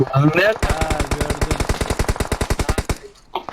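Automatic gunfire in an online shooter game cracks out as a fast, loud burst of about twenty-five evenly spaced rounds, preceded by brief speech and ending abruptly.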